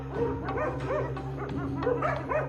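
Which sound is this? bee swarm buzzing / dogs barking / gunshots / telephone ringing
dogs barking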